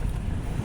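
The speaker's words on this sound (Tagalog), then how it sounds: "Hangin kayo, oy." Wind buffets a microphone outdoors, a loud, dense low rumble that roars continuously through a brief moment with no voices.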